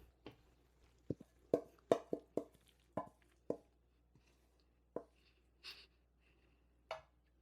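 Chunks of cassava and yam for a Jamaican cassava pudding drop into a dish in a quick series of soft, close thuds and plops, several clustered together and then a few more spaced out, with quiet pauses between.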